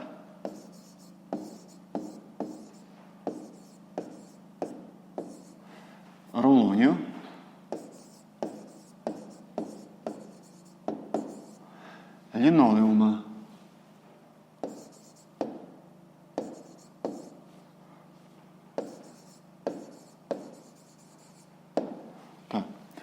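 A pen scratches on paper in a long run of short strokes and taps, with brief louder scribbles at two points, close and dry, alone without voices.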